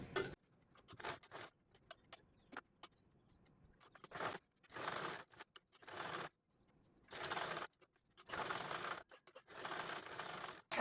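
A sewing machine stitches the edges of a folded cloth money pocket in short mechanical bursts, each run a rapid clatter separated by pauses, close and fairly loud, with no speech.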